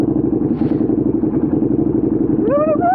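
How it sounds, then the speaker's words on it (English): Thumping exhaust and engine of a 2014 KTM 1290 Super Duke R twin, steady and close throughout, with a rising tonal whine near the end. "I think that big thumping exhaust gives you better things to think about than the stupid vibrations."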